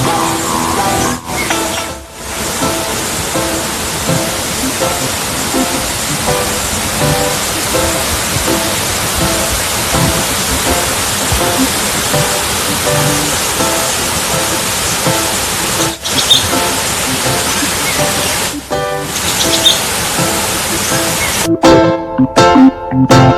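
Manantial Waterfall Domain in tropical forest: a steady, dense roar of falling water fills the whole stretch, loud and close, with brief dropouts and a few clattering knocks near the end.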